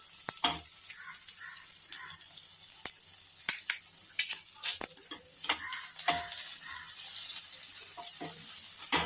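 A frying pan sizzles steadily on the stove as turmeric goes in, with scattered clinks and stirring scrapes over a continuous hiss, no voices present.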